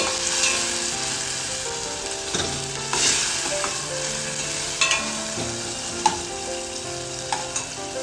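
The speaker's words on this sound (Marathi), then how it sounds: "इकडे ना कांदा आपण छान असा तेलावरती परतून घेत आहे त्याच्यामध्ये आपण कढीपत्ता देखील टाकलेला आहे" Onion, curry leaves and chopped tomato sautéing in hot oil for a Maharashtrian thali dish, a loud, steady sizzle with occasional scrapes and stirring knocks heard close up.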